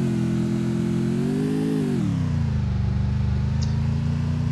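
A car engine in the video game Free Fire revs steadily, rising slightly in pitch before dropping to a lower, rougher drone, loud and close with no talking.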